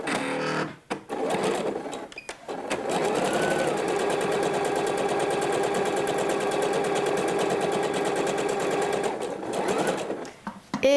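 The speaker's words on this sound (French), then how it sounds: "Je vais maintenant pouvoir piquer sur chacune de mes manches à 1 cm du bord" A sewing machine stitches along the sleeves of a dress with a fast, steady mechanical whir, starting with a few short bursts before running continuously for several seconds and stopping near the end.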